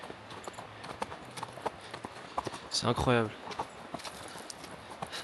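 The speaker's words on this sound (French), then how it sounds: "je me trouve à faire du cheval dans la neige au Kirghizistan" Horse hooves clip-clop steadily through snow on a ride in Kyrgyzstan, close and fairly loud, with a denser burst of hoof and tack noise midway while a person speaks over the steps.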